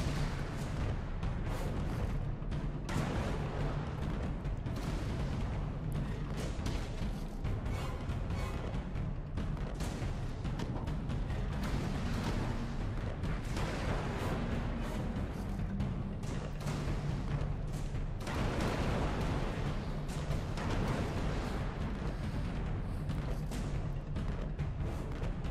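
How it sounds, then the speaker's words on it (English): Crab enemies firing at the player in Alice Madness Returns, a steady barrage of booming game shots and impacts that keeps going for the whole stretch, dense and loud with no talking. "I've got crabs shooting at me again"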